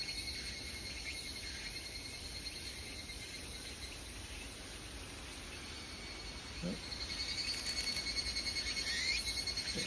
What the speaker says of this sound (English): Next to these loud cicadas.